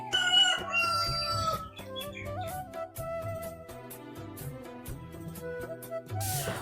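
A rooster crows over music playing throughout, with bursts of clucking mixed in.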